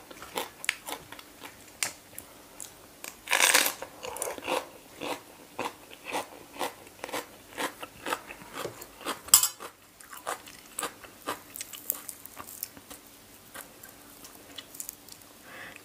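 Crunchy bites and chewing of a spicy papaya salad with rice noodles, a steady run of small crisp crunches up close with a few light utensil clicks.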